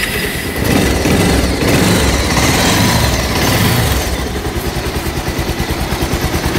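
A Bajaj Pulsar 220 motorcycle engine runs steadily, its stock exhaust giving a rough, buzzing rumble that shifts into a pulsing idle toward the end.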